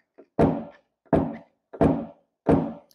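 Four evenly spaced sharp metallic thunks from a hammer striking a paintless dent repair punch at the instant it meets a car's steel panel, close and solid, with a faint tap before the first blow.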